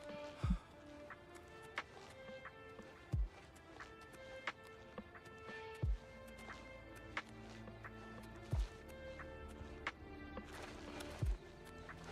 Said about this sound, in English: in this game you are the Skyrim horse